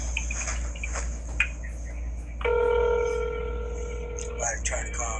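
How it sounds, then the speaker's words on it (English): An incoming call makes a telephone ring once with a steady, two-second electronic tone, rising clearly above a constant low hum and faint background chatter. "Somebody trying to call this phone."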